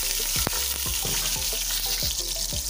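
Onions frying in oil for a chicken kofta curry crackle and hiss close by, with a series of evenly spaced stirring scrapes against the pan and no voices.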